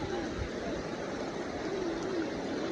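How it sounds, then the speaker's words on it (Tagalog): A mountain river runs steadily with a broad continuous rush of water, close and fairly loud, while a faint voice drifts underneath. "Ilog."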